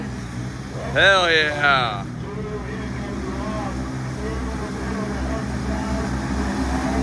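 Vehicle engines rev and drone while mud bogging at an ATV jamboree, two rising revs up front then a steady roar, with people shouting and talking over it.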